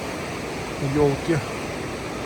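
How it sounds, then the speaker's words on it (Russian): A mountain river near Rosa Khutor in Sochi in December pours with a steady, broad rushing hiss, constant in the background while someone briefly speaks over it. "Река, конечно, льется круглые сутки."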